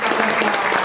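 A short burst of clapping from a crowd, dense and steady, heard close.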